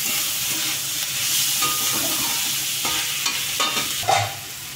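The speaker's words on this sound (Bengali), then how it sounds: "এবার আর একটু ভেজে নেবো এটাকে, সবজিটাকে আবার ঢেকে দেবো।" Vegetables sizzling and frying in a pan while being stirred for paneer kalia, a steady close hiss with scraping stir strokes and a few louder clatters near the end, no talking.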